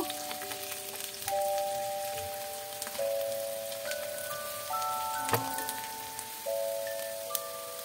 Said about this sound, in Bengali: এর মধ্যে আমি দিয়ে দিচ্ছি পেঁয়াজ কুচি, তারপর হচ্ছে কাঁচা লঙ্কা কুচি দিয়ে ভালো মতো করে আমি একটু ফ্রাই করে নিব